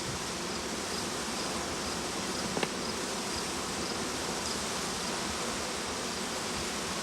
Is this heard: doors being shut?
no